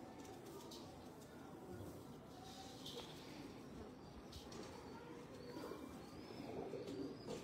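Pigeons coo softly on a rooftop loft in Faisalabad amid faint chirps and a busy outdoor background, the calls quiet and somewhat distant under steady ambient noise.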